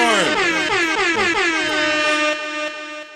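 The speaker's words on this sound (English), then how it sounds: "Hit the fucking air horn." A loud, blaring air horn sounds in a rapid series of wavering blasts, then settles into one sustained tone that fades toward the end.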